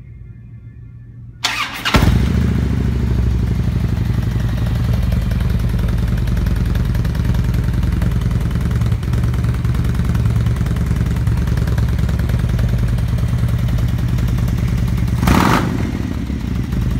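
A 2007 Harley-Davidson FLHR Road King motorcycle cranks and fires up, then settles into a loud, steady, rumbling idle that continues for many seconds, with a brief mechanical clatter near the end.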